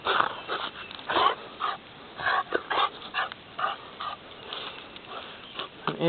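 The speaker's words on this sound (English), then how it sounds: "He's a smart dog." A wet dog in a garden after light rain makes close, breathy snuffles, whimpers and short panting bursts in an uneven rhythm, alone without speech.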